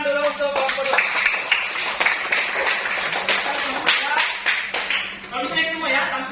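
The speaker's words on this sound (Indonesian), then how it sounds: "Tepuk tangan dulu untuk kelompok 2." Classroom audience clapping for a student group about to present in a maths teaching session, uneven rhythmic claps and taps from a small room, with voices talking over and between them.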